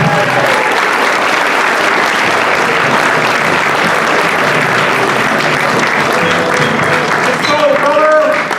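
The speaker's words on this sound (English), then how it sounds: "So please join me in giving a great round of applause" Audience applause fills a hall at a legal aid society event as a speaker is welcomed, steady and loud throughout, with some voices mixed in near the end.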